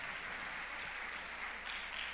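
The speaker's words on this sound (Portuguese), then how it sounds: "Aplaudam vocês mesmos, vai." A church congregation applauds during worship, a steady wash of clapping from many hands that carries on evenly throughout, moderately loud and slightly distant.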